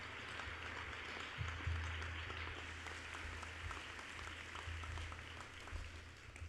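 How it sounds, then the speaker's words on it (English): At a high school graduation ceremony, a large crowd applauds, a distant, fairly quiet wash of clapping with a low hum beneath, steady throughout. "give yourselves a round of applause for helping get this class here today"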